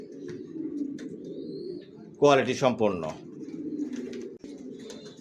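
Racing pigeons cooing softly and steadily in a loft, a low continuous burbling that runs nearly the whole time, briefly covered by someone speaking nearby.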